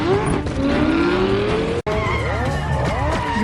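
A McLaren 720S skids through a movie chase, tires squealing in long rising tones over a roaring engine, with a brief sharp cut partway through and the squeal continuing afterward in overlapping sweeps.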